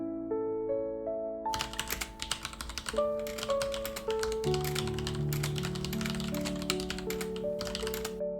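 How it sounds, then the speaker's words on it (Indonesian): Typing on a computer keyboard during a recorded police wiretap, with bursts of quick tapping keystrokes under a slow, sustained musical backing, faint and steady throughout with no talk. "pada rekaman penyadapan polisi terdengar suara mengetik saat Stacy sedang berbicara dengan temannya."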